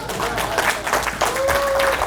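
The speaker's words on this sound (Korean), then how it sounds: "근데 왜 박수를 안 쳐?" An audience at a Korean lecture claps in scattered bursts, uneven clapping rising and falling over a couple of seconds, with a brief voice and a thin tone sounding through it.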